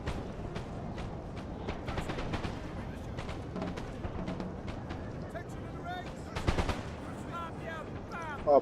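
Musket gunfire in a Napoleon Total War online battle, rapid crackling volleys of many shots, with a louder close burst near the end, under a faint background.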